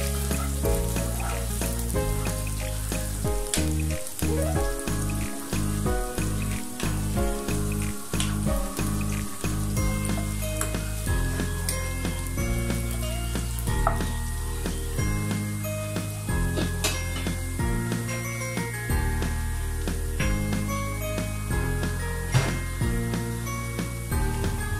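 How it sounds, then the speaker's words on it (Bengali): Whole garam masala spices fry in hot oil in a pan while a beef curry with new potatoes is cooked, giving a steady sizzle throughout, partly masked by continuous background music. "আমি একটু গরম মশলাটা ভেজে নিচ্ছি"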